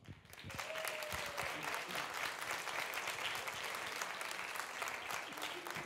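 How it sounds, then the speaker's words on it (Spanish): An audience at a rock concert event applauds an art installation's creator, with steady dense clapping heard at a distance and a few faint whistles, sustained for several seconds. "pido un fuerte aplauso"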